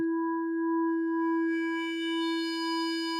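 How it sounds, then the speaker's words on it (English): A pure Arturia MicroFreak synthesizer oscillator tone holds steady while upper harmonics gradually creep in, the sound brightening from a smooth sine toward a buzzier triangle wave. "You're morphing between sine waves and triangle waves"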